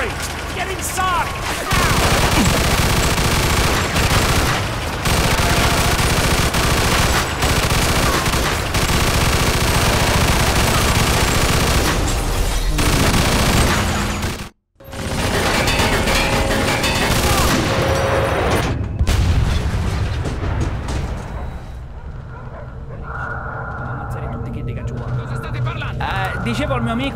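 Heavy gunfire and artillery in a Mafia II battle, with dense continuous bursts of automatic fire and booming blasts, loud and nearly unbroken apart from one brief gap, and shouted voices over the din.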